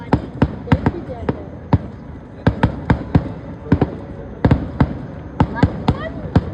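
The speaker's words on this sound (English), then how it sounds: "Look at the pretty color. Oh, that was that orange and yellow one." Fireworks bursting at a thunder festival, a rapid series of sharp cracking pops at uneven intervals, some in quick doubles, echoing over a steady background murmur while people talk nearby.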